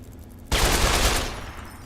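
Adaptive combat rifle in Fallout 3 opens up with a sudden burst of rapid gunfire that holds for about a second, then tails off into a lingering rumble.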